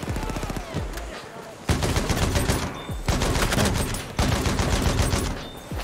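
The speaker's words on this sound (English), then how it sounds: "That dude with a Maxim is not running out of bullets for some reason" Maxim machine gun in a World War I shooter on the Achi Baba map, hammering out long sustained bursts of rapid gunfire with short pauses between them, loud and close, with faint voices underneath.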